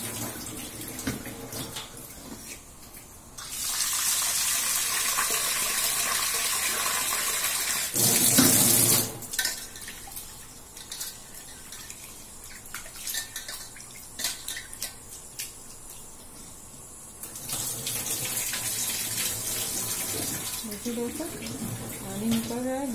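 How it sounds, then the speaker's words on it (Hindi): Tap water runs into a vessel while rice is washed, gushing in loud stretches broken by quieter sloshing and dripping; a person talks softly in between. "पानी निकल रहा है, गंदा गंदा पानी।"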